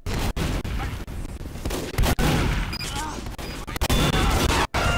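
Gunfire in the video game Team Fortress 2 during a fight over a control point, near-constant shooting with sharp cracks and bursts layered over a busy, loud battle that runs throughout.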